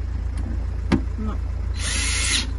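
A power drill tightens fasteners on a Mercedes-Benz Sprinter camper van conversion, with a short whirring burst near the end after faint clicks, and a steady hum underneath.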